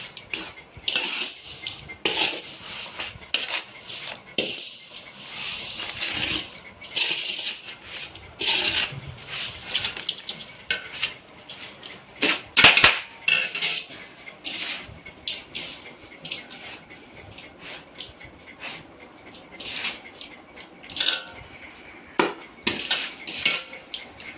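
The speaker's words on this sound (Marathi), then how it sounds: "आता त्याच्यात तेल टाकून मिक्स करून घ्यायचं" A spoon scrapes and rubs against a metal bowl while oil is mixed into Maharashtrian pickle, irregular bursts of close scraping and clinks separated by brief pauses.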